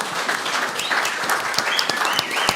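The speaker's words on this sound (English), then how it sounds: "everybody, round of applause for our 3 winners" An audience claps in a steady, dense burst of applause for three winners at a talk, sustained and fairly close throughout with no voices over it.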